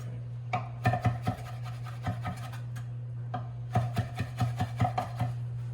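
A knife chops ingredients for homemade meatballs on a board in quick clustered taps separated by short pauses, close by, over a steady low electrical hum.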